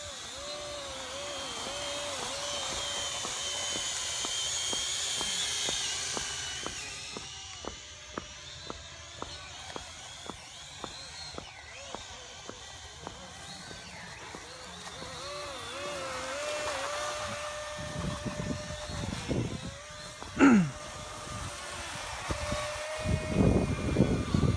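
Homemade radio-controlled hovercraft running with a continuous buzzing motor whine that rises and falls in pitch, punctuated by regular ticking clicks, with louder scraping bursts near the end.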